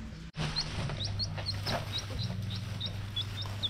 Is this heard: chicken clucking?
yes